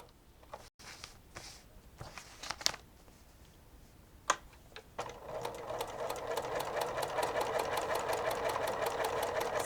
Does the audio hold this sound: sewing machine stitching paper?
yes